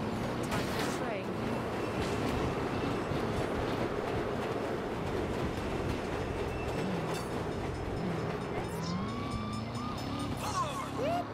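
A train rumbles past in the Saints Row video game, a dense steady roar with clattering over the rails, heard alongside game sounds and some talking.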